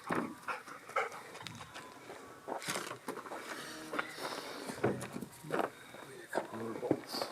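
A dog pants and pads about nearby on an outdoor greenhouse building site, with uneven bursts of breathing and footsteps mixed with scattered knocks and movement.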